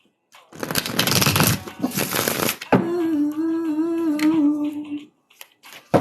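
A tarot deck is shuffled by hand in two brisk riffling bursts of crisp card flutter, close to the mic, followed by a sustained humming voice.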